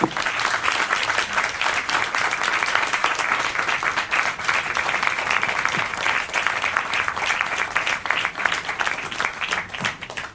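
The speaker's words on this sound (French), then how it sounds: "d'applaudir très fort Françoise d'Ormesson" An audience claps steadily and warmly for Françoise d'Ormesson, a dense, even wash of applause sustained for about ten seconds with no voices over it.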